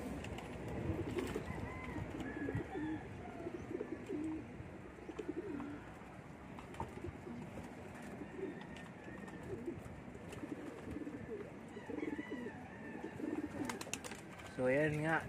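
Pigeons coo softly and repeatedly against a quiet outdoor background, with a person speaking now and then.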